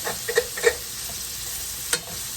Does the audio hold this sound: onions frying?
yes